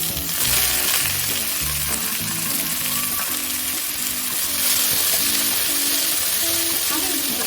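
Onion and spinach sizzle in a pan for curry, a continuous close frying hiss with light stirring scrapes, steady and fairly loud, with a faint tonal background layer.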